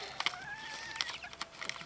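Silkie chickens cluck and squawk nearby in short, irregular bursts, with a few sharper calls standing out over a quiet outdoor background.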